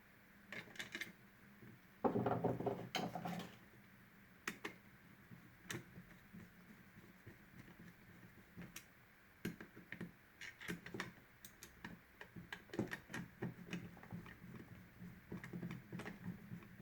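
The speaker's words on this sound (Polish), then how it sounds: "montujemy teraz ramkę razem z płytką regulacyjną dokręcamy śruby" Screws are tightened on a thermostat frame and control plate for an underfloor heating regulator, giving faint, sparse clicks and small plastic ticks close by, with a short cluster of louder handling rattles.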